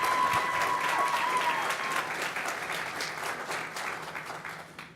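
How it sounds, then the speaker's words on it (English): Full, steady applause from the audience at a city employee service award ceremony in Portsmouth, Virginia, loud at first and tapering slightly toward the end, with a brief whistle near the start. "How about a round of applause for Miss White?"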